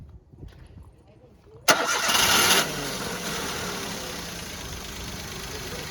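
A 2016 Maruti Suzuki WagonR VXi engine with a recently fitted battery cranks with a sharp burst, catches, and settles into a steady idle that continues to the end, with a voice nearby.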